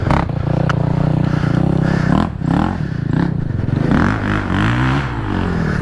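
A 2014 Honda 450 dirt bike revs hard and rides off, its loud, close engine rising and falling through several throttle bursts as it pulls away.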